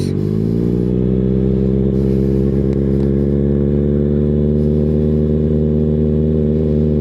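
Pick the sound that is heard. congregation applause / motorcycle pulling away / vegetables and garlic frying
motorcycle pulling away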